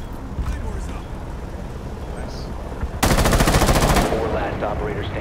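Automatic gunfire in the video game Rainbow Six Siege, a sudden loud rapid burst of about a second cutting in over quiet ambient rumble, followed by a lingering tail.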